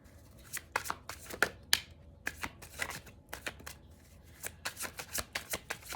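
A deck of Divine Feminine Healing oracle cards is shuffled by hand in a series of crisp riffling bursts, irregular at first and then quicker and more regular, close and fairly quiet.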